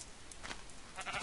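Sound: sheep bleating in the video game Minecraft

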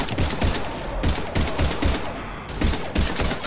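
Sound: gunfire in Mass Effect 3 video game

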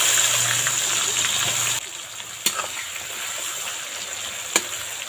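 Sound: chopped onion frying in hot oil

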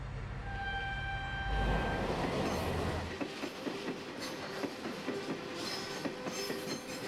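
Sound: freight train running on railway

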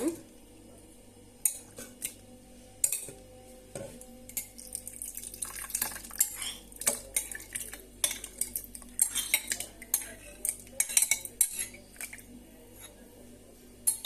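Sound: boiled pumpkin being transferred into blender bowl

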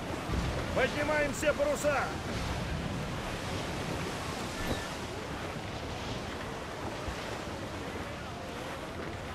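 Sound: stormy ocean waves and wind, video game Assassin's Creed 4 Black Flag

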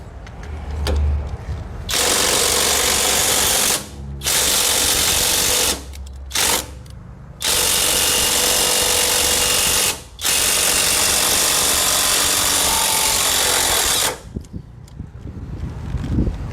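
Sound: STR 21V cordless impact wrench loosening long bolts on trailer bogie

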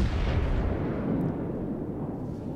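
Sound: battleship shell volley firing in World of Warships video game

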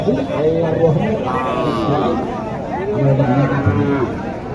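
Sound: cattle mooing at a cattle market

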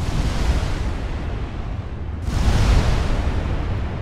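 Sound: torpedo hit explosion on a warship, Ultimate Admiral Dreadnoughts video game

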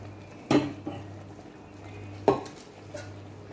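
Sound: mutton kurma masala being stirred in a pot

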